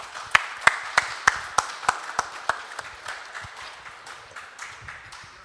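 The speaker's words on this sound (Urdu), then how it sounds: "تو غضنفر ہاشمی بھائی کے لیے ہمارے خیال میں زوردار تالیاں ہو جانی چاہیے" A small scattering of claps from a literature festival audience in Pakistan, distinct sharp hand claps in a steady rhythm that gradually thin out and grow fainter.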